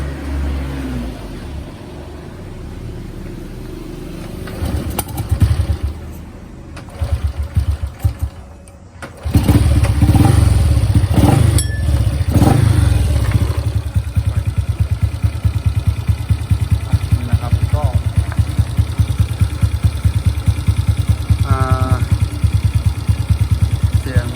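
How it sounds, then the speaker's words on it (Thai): A motorcycle fitted with a racing air filter starts up after a brief quiet stretch, then settles into a steady, loud, close idle with a busy chugging pulse that runs to the end. "สตาร์ทรถให้ดิ เดี๋ยวเราลองมาสตาร์ทกัน"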